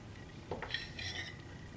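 A metal spoon scrapes and clinks against a pan while chicken Florentine with diced tomatoes is divided and dished out, giving a few soft close taps and scrapes, faint and brief.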